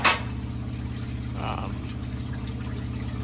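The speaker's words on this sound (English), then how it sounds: "Now we're gonna drain that out, then refill it." Mobil 0W20 engine oil drains from a Toyota 5.7 into a pan, a steady pouring trickle under a constant low engine-like hum, with a short splash near the start.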